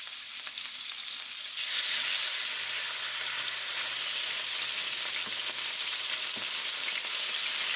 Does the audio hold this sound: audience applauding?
no